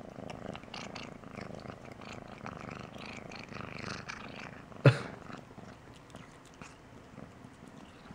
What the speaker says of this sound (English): She's like trying to purr, eat, and taste everything at the same time.